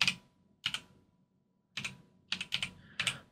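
A computer keyboard typed on in short bursts of quick, crisp clicks, close up with pauses between, while entering a web address to book a UK driving test.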